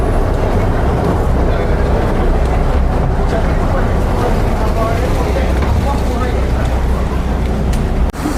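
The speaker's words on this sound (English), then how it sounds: "There's the Rua, the boat" Steady engine rumble and churning water from a canal boat moving along Saen Saep canal in Bangkok, loud and continuous, with faint voices underneath.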